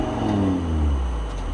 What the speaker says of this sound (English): Okay, that's stock exhaust.